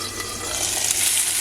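Potatoes for a potato-poblano hash frying in a pan, a close, steady sizzle with light crackling, no talking.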